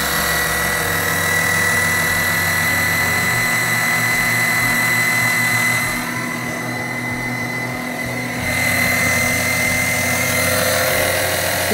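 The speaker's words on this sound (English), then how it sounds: "Ready to turn the pump on." A small oil extraction pump runs steadily while draining engine oil from a Seadoo GTI 130 personal watercraft, a continuous close motor hum and whine that dips briefly midway before resuming at full strength.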